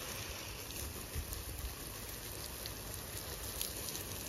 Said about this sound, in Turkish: Bir çok fena yağıyor.